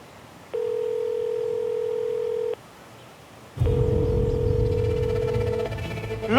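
A telephone rings with two long, steady electronic tones separated by a short pause, the second one louder and sitting over background noise.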